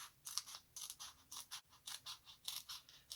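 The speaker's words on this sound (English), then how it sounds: "we'll take our scissors and you're going to snip as close to the edge as you can on this side" Scissors snip through a plastic page protector in a quick series of close, crisp cuts with short pauses between them.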